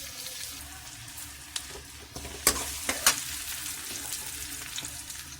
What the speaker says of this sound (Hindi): अब हम इसमें कैप्सिकम ऐड करेंगे। आप चाहें तो पीस ऐड कर सकते हैं, फ्रोजन पीस। 2 मिनट फ्राई करेंगे।